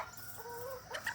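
A sweater pullet, a young hen of the Sweater gamefowl line, gives soft tonal clucks, a short rising call and then a brief louder squawk at the end, heard close and alone.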